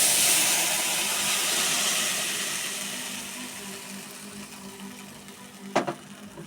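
A semolina and raw potato mixture fries in hot oil with mustard seeds, giving a steady broad sizzling hiss that slowly fades, broken near the end by a short sharp clatter.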